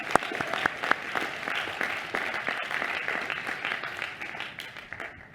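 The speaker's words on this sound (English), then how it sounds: "Please give yourselves another round of applause to recognize this incredible moment." Graduates at a graduation ceremony give a sustained round of applause, steady dense clapping with a few sharp nearby claps, moderately loud and fading slightly at the end.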